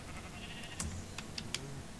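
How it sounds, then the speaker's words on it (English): Sheep in the Minecraft video game bleat a few times in short, thin game-sound bursts over a steady background hiss, with no talking. "that's a grey sheep"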